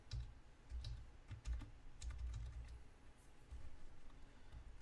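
A sudo password being typed on a computer keyboard, with quick irregular bursts of soft close key clicks and short pauses, quiet and with no talking.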